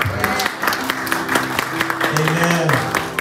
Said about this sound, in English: Can we give the Lord one more clap on?